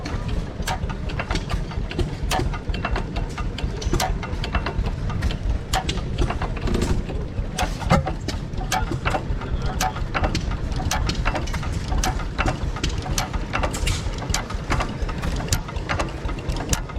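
An engine runs quietly at an antique power show, a low steady chugging rumble with dense irregular clicks and ticks throughout, close by and even in level.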